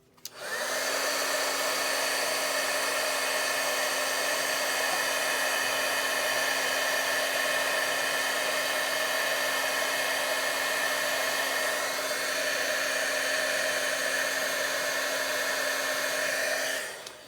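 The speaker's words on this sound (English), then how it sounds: "I'm going to take some clear powder here. And melt it with a heat gun." A heat gun melts clear embossing powder on a stamped whale card, blowing as a steady, continuous whirring hum with a constant tone that runs alone for about seventeen seconds before cutting off.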